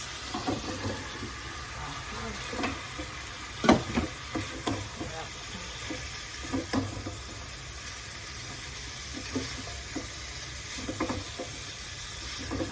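Sliced bitter gourd (ampalaya) tipped into a pan with cooked tomato sizzles steadily, with clattering stirring and utensil knocks over a constant frying hiss while someone talks.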